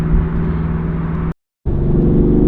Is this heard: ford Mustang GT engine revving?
yes